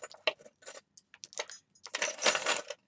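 Small metal key-shaped charms from a craft supply order clink and jingle as they are handled, with scattered light taps early on and a denser burst of metallic rattling near the end, close and fairly soft.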